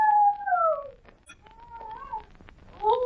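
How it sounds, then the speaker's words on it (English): A dog howls in an old-time mystery radio drama, with long, wavering, falling cries drifting in and out at moderate distance, alone, with no voices over them. "It's a howling dog."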